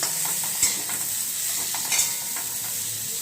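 Cauliflower and potatoes sizzle in a pan with occasional scraping and stirring clinks, a steady close frying hiss throughout.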